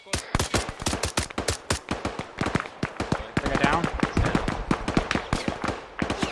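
Loud, rapid gunfire from the ArmA 3 video game: dense machine-gun bursts and single shots crackle almost without pause, with voices talking underneath.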